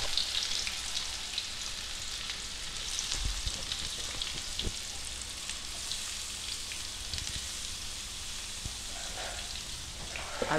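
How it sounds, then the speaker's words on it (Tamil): Beans, chillies and onion sauté in a pan with a soft, continuous sizzle and crackle, broken by occasional light taps and stirring knocks. "அதை நல்லா வதக்க வேண்டும்."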